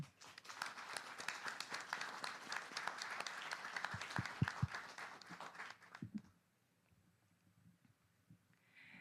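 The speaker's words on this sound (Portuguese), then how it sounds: "Uma salva de palmas para essa nova diretoria." Applause at a formal inauguration ceremony for a national engineering academy's new board: many hands clapping steadily, with a few sharp nearby claps, then stopping abruptly into near silence.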